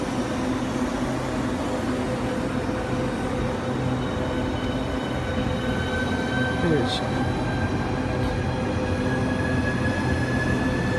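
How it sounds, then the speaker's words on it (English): Southeastern high-speed train 395024 pulling out of platform 6 at Ashford International, a steady electric whine and rising tonal hum with rolling wheel noise, heard from the platform amid station ambience. "we have 395024 for a Southeastern high-speed service through to Margate. About to depart platform 6."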